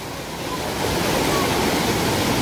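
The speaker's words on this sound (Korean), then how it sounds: "폭포수가 바위를 치고 내려갑니다." A waterfall in the Jijangsan valley crashes down onto rocks into a deep pool, a dense, continuous roar of falling water that swells slightly and holds steady, with no voices.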